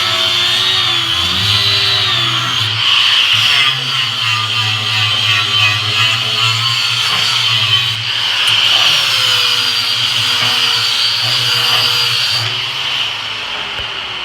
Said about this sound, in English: I'm only going to use these as a 40 grit finishing disc, flap disc, to just finish it up